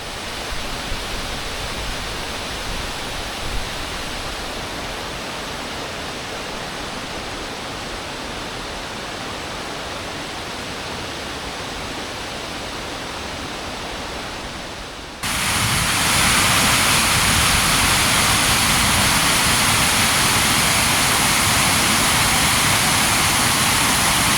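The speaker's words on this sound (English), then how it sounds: "you got to love these waterfalls" Waterfalls in the woods at a retreat give a steady, dense rush of falling water that grows markedly louder and closer partway through, with no voices.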